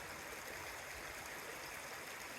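Water in a small creek on a winter hike near the Prompton waterfalls flows in a constant soft rushing wash, faint and steady, with no voices.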